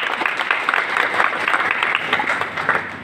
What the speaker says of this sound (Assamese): সকলোৱে হাত তালি দিব।